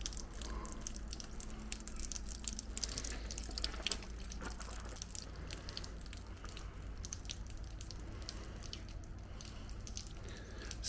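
Water leaking from the bolted ironwork of the Pontcysyllte Aqueduct, a soft continuous trickle and drip heard outdoors, fairly faint and steady.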